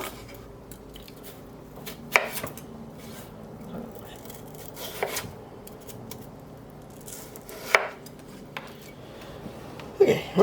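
A knife slices vegetables on a cutting board, producing a few sharp, spaced cuts and board knocks over a quiet, faintly scraping background.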